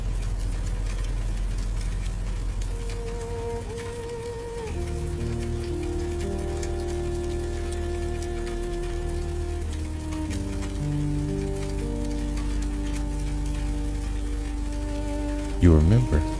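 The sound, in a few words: steady soft rain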